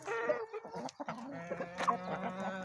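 Hens cluck and murmur close by, a few overlapping calls with an occasional sharper squawk, continuous and fairly quiet.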